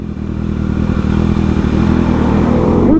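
A motorcycle roars past close by on a group ride, its engine loud and building steadily as it sweeps through.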